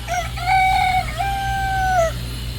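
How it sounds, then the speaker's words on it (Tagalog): A rooster crows once nearby on a farm in Pampanga, a long drawn-out cock-a-doodle-doo with a low steady hum underneath and no talking. "manok na puti"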